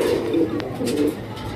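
Pigeons coo nearby in soft, low, rolling bursts, two or three calls overlapping in a short stretch with light background noise.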